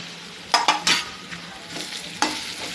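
Semolina stirred and roasted with softened onions in a pan for upma, with a few sharp scraping strokes of the spoon early on over a low steady sizzle, then one more scrape near the end.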